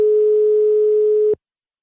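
Telephone ring tone on an outgoing call, a single steady electronic tone held loud and alone for over a second, then cut off abruptly and followed by silence.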